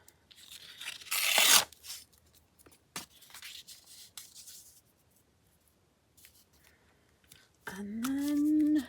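Paper being torn and cut by hand at a crafting table, one loud close ripping burst, then softer rustles, snips and handling noises, with a voice briefly speaking near the end.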